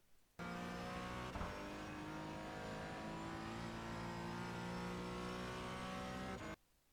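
Porsche Cayman GT4 engine droning steadily at speed around the VIR race track, heard from inside the car, loud and constant with a brief surge near the start, cutting in and out abruptly.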